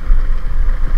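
Automatic motorcycle engine laboring up a steep, rocky uphill trail, a steady low rumble that stays close and loud throughout.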